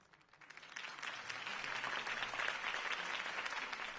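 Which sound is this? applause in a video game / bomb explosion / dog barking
applause in a video game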